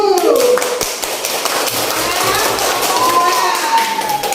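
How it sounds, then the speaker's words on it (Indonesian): Classroom applause for group one, a burst of children clapping in steady rapid taps, with a teacher's voice rising over it at the start and near the end. "tepuk tangan untuk kelompok satu"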